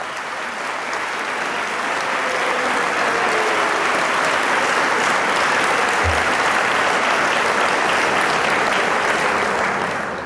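Sustained applause from an audience at a 2007 community forum, honoring a regional office head, steady and dense clapping throughout with no voices over it.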